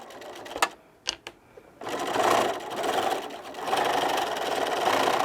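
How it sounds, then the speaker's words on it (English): A sewing machine back stitches the seam of a fabric microwave popcorn bag, opening with a few short bursts and then running in a fast, steady whir close by. "so we're going to stitch, and I'll back stitch there a little bit."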